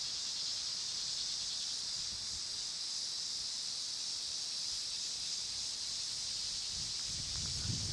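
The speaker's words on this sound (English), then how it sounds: "I should mention it's very windy as well." Strong wind blows outdoors during bird photography with a Canon R7, a steady broadband rush that never lets up across the whole stretch. No one speaks.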